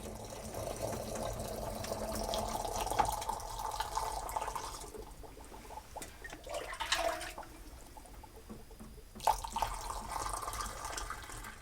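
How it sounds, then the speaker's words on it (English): Hot strike water at 160 degrees poured into jars of malt grain for mashing, a steady splashing and trickling pour close by that rises and falls over the length of the clip. "Simply heat up your water to exactly 160 degrees. This is known as your strike temperature, and pour it into the jars of grain."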